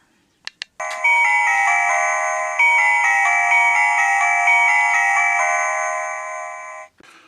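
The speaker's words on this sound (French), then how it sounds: "La sonnerie est dans le garage, donc à peu près à 25 mètres." A Silvercrest wireless doorbell chime, set in a garage, plays a loud, clear melodic ring lasting about six seconds after a few quick clicks, with nothing else audible around it.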